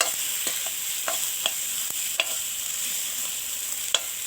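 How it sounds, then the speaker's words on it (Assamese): Moong dal paste and curry leaf paste fry with tomatoes in a pan, a soft steady sizzle broken by repeated scraping stirs of a spatula at irregular intervals, close by and without speech. "এনেকৈ মই 5 মিনিটমান সময় লৰাই লৰাই ভাজি ল'ম।"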